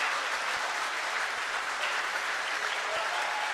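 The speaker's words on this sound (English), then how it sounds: "So a big round of applause for them." A school audience at a youth convention applauds teachers and students receiving certificates on a dais, with steady, even clapping that fills the whole stretch and has no talk over it.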